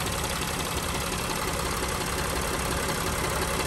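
A Mercedes Sprinter van's diesel engine idles steadily nearby in limp mode, a continuous low rumble with a rough, knocking texture and no pauses.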